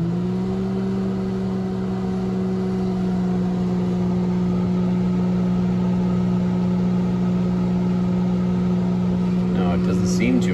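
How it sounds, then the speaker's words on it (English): Steady electrical hum of a running microwave oven, a constant low drone that holds unchanged, with faint rustling near the end. "Let's fire up the microwave again"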